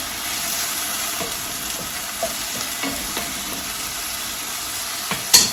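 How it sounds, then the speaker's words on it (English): Chicken and vegetables stir frying in a hot pan, a steady close sizzle and hiss running throughout, with occasional soft clinks of a utensil stirring and a sharper knock near the end. "just keep stir frying your vegetables so that they get done"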